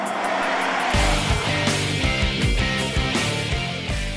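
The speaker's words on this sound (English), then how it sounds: "it revs real freely, and it's a happy little engine" A 2013 Subaru BRZ sports car engine revs steadily and loudly, its pitch climbing and dropping in repeated surges with a sharp gear-like rhythm, close up.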